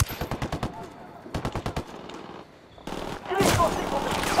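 Submachine gun fire from a Sicario enemy in Ghost Recon Wildlands: two rapid bursts of close, loud shots, followed by a heavier wash of gunfire and rumbling combat noise.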